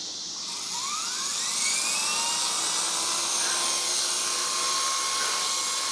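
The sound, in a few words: WL Toys V912 fixed pitch RC helicopter rotor running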